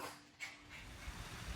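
A dog whimpers once briefly, then pants softly and rhythmically close by, the sounds faint and short with no voices.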